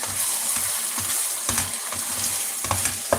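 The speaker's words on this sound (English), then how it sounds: "So you give it a gentle stir" Sweet corn being gently stirred into mixed-vegetable jollof rice in a pot, with a steady sizzle and frying hiss throughout and a few soft spoon scrapes and taps against the pot.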